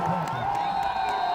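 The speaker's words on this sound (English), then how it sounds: "this crowd is very much into this football game" A college football stadium crowd roars and cheers during an FCS playoff game between Eastern Illinois and South Dakota State, a brief, dense wash of voices heard from a distance.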